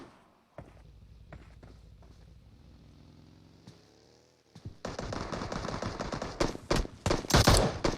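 Gunfire in a battle royale match, scattered shots early, then a loud sustained burst of rapid automatic fire with sharp cracks toward the end.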